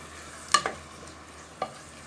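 Onions frying in oil in a pot for a stuffed cabbage filling give a faint, steady sizzle, broken by a few sharp clinks of a utensil against the pan.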